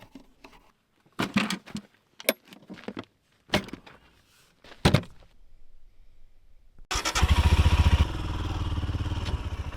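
Scattered clicks and clatter come first, then a solo motorbike, ridden without panniers on a trail in the Flinders Ranges, roars in loud and close with a steady, rough engine drone.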